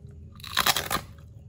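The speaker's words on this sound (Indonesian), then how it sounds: "Sekarang kita tes kriuk." A single loud crunch from biting into crisp homemade fried keripik chips, a short close burst of crackling that fades quickly, with no voices.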